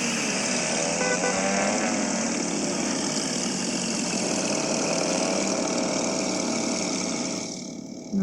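Porsche engine in the Car Parking Multiplayer game, a steady, dense mid-pitched drone that holds level for about seven seconds, then drops away near the end.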